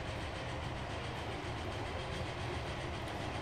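A train running in the video game Transport Fever, with a steady loud rumble and faint rhythmic clatter of rolling wheels, heard alone without talk.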